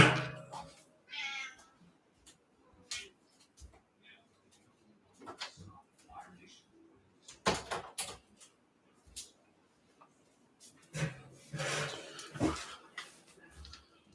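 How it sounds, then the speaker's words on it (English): A house cat meows several times indoors, short separate calls spread through a quiet room with long pauses, along with a few soft thumps as of a door. "Let me let my cat out real quick."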